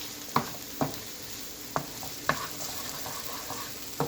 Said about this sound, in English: Just allow your season to cook for like a minute.